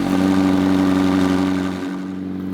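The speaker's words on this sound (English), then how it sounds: "And finally, we can start the engine, record some audio of the exhaust" A McLaren 750S Spider's engine and exhaust give a loud, close, steady droning rumble that eases off slightly toward the end.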